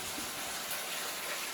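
Water runs steadily from a tap, a constant broadband rush filling something, faint and continuous with no voices.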